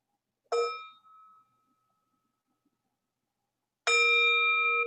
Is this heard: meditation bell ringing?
yes